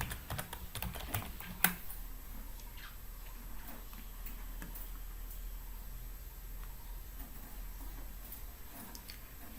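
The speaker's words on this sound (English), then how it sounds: "you can easily just type the igs.org/network" Keys clatter on a computer keyboard as a web address is typed, a steady run of quiet close taps with one sharper click near the start, over a faint room hum.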